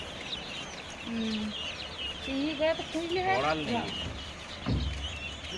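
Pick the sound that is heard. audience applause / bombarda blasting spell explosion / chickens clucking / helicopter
chickens clucking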